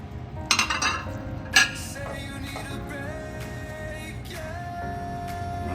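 Mushrooms and shallots go into a pan of thickening Salisbury steak sauce: a few sharp clinks of utensils against the pan at the start, then a soft ongoing bubbling and sizzle with light scraping.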